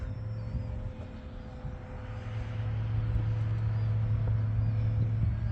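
An FMS Pitts RC model airplane in flight, banking through turns, its electric motor a steady drone with a low hum that grows slightly louder and nearer partway through, with no talking.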